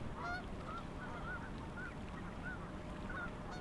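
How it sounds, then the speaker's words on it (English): Geese flying overhead honk repeatedly over a lake, the calls faint and distant against a steady background rush of wind. "But geese flew overhead,"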